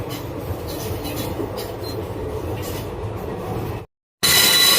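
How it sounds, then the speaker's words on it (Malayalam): The Punalur–Madurai Express runs on rails after leaving Kollam Junction, heard from a general compartment as a loud, steady rumble with wheel squeal on a curve, cut by a brief silent gap before the noise returns. "കൊല്ലം ജംഗ്ഷനിൽ നിന്ന് ഓൺ ടൈമിന് തന്നെ ട്രെയിൻ എടുത്തിട്ടുണ്ട്"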